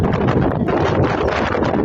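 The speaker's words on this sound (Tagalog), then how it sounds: "Lakas ng hangin, oh." Strong wind in Oriental Mindoro, Philippines, roars and buffets the microphone in a constant, loud rush for the whole stretch, with no voices.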